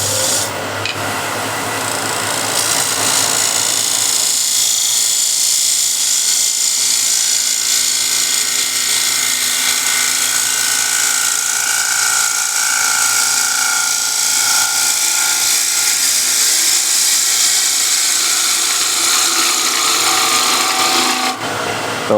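A wood lathe gouge cutting a bowl with a nasty flaw makes a steady, loud, close rasping scrape that runs unbroken for about twenty seconds.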